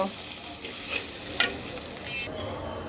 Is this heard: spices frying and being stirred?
yes